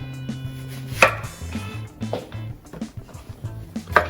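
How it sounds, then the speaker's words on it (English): Knife chopping onion and potatoes on a cutting board, a rapid run of close, rhythmic thuds and taps. "So the first thing we're gonna do is cut the onion and the potatoes."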